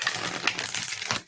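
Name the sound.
riffle shuffling a deck of cards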